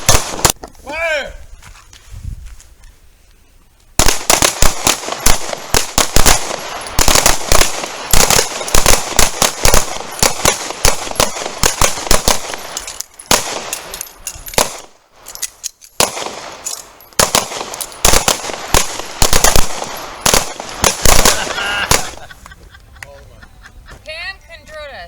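Pistols fire at a shooting range in rapid, loud overlapping volleys of sharp cracks, bursts continuing for about twenty seconds before tapering off, with voices heard around the shots.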